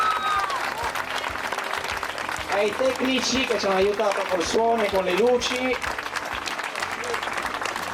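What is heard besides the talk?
audience applause after a play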